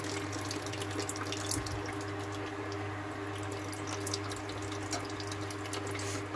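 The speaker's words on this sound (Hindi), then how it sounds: "इतना इतना ही आ रहा है पानी," Water trickles thinly from a partly frozen household tap in snowy weather, a close, continuous faint splashing and dripping into a sink with a low steady hum underneath.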